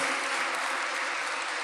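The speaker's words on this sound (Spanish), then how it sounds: "vamos a saludar con otro aplauso a los que nos están viendo" Applause from an audience at a live talk or event, a dense, steady wash of clapping that fills the whole short moment without any break.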